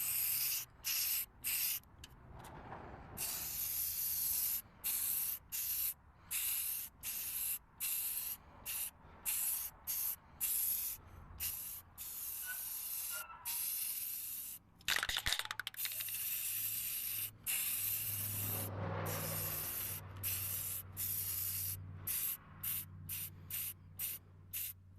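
Spray paint hisses onto a plastic truck grill in short repeated bursts separated by brief pauses, close and fairly loud, with one longer spray near the middle.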